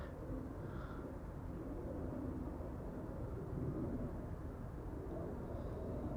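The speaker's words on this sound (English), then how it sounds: "Little SAS A320neo to Copenhagen." A steady, distant roar of an SAS Airbus A320neo jet airliner at Amsterdam Schiphol Airport, broad and constant at low volume, with no voices over it.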